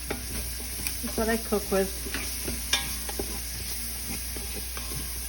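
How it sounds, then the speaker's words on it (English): Pieces of meat for carnitas sauté in olive oil in a pan before going into a pressure cooker. A soft, steady sizzle runs under occasional stirring scrapes while a voice talks briefly. "So you're just gonna saute this just a little bit"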